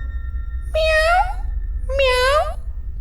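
Two drawn-out meows, a second apart, over a low steady hum; it may be a person imitating a cat.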